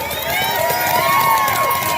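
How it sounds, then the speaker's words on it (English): A loud crowd cheers continuously, with many overlapping voices shouting and whooping together in a dense, sustained roar. "The crowd's cheering"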